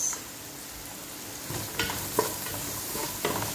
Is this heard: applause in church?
no